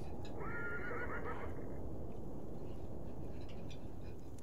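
A horse whinnies in the video game Beyond Two Souls, a rising and falling neigh near the start heard over steady ranch ambience with faint outdoor background noise.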